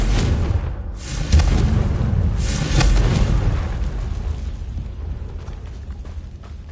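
The Confringo blasting spell in Hogwarts Legacy lands as a deep rumbling explosion, with two swelling booms around one and two-and-a-half seconds. The blasts fade into a long, low roar of debris.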